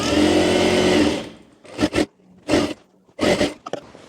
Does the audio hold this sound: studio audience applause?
no